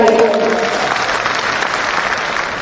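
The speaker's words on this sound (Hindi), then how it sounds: "इनके लिए जोरदार ताली दीजिए भाई।" Loud, steady crowd applause fills a large auditorium at a state-level political party workshop in Patna, a dense wash of clapping that holds evenly throughout with a brief voice near the start.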